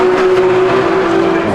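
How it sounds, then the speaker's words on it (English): Porsche race cars including a new GT3 pulling out of a pit lane, a loud close engine drone holding one steady pitch throughout, dense and continuous. "Collection of cars going out."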